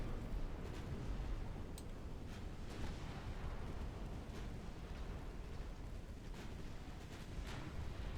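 Naval gunfire during a battle in the game Ultimate Admiral Dreadnoughts, with dreadnoughts and secondary guns firing: a loud, dense, continuous rumbling barrage with scattered sharper blasts throughout and no talking.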